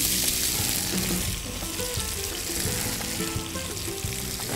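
Garlic frying in a pan until golden, producing a constant dense sizzling hiss with faint clinks and spatters, close and with no voices.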